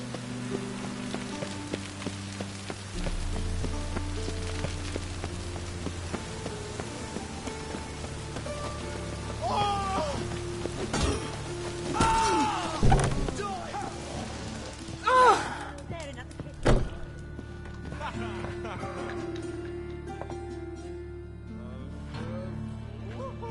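Steady rain patters throughout in the video game The Witcher 3, with a few louder thuds and clatters standing out midway, and some voices faintly underneath.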